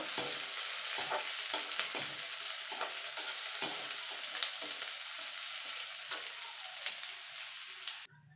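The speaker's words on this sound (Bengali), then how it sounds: "পেঁয়াজটা ভাজা হয়ে গেছে" Steady crackling sizzle of chopped onions frying lightly in a pan on a gas stove, with soft stirring scrapes throughout, close and continuous, cutting off near the end.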